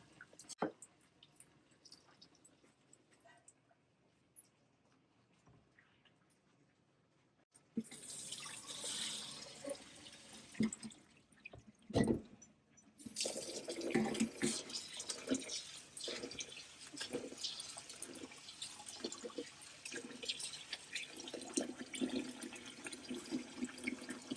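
Tap water runs into a vessel of raw rice during repeated washing for Nigerian party jollof, with a louder rushing stream and squishy sloshing of grains being rinsed, rhythmic stirring pulses after a quieter opening.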